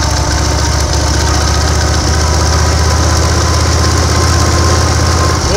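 A 1930 BSA 770 cc V-twin motorcycle engine running close by, a loud, steady, even mechanical thrum with a low throbbing beat and a slight knock, continuous throughout with no voices.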